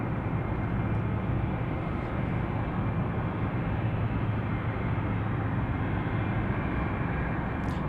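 An Embraer E175 airliner takes off at Anchorage airport, giving a steady, broad jet roar that holds even and loud throughout with no voices over it.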